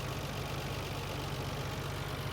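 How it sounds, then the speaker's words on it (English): Idling 1990 Nissan Skyline GT-R with its RB26 DETT twin-turbo inline-six, fitted with an HKS air filter, giving a steady low rumble that holds even and unbroken throughout, with no voices. "This is the iconic RB26 DETT inline 6, twin turbocharged."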